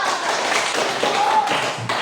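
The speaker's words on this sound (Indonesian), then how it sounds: "Dulu tepuk tangan dulu." Hands clapping in a classroom, a short burst of rapid, close taps from a small group of students lasting about two seconds.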